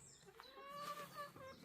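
Hens clucking in a neighbour's garden, faint and distant, with a few short calls and soft clucks.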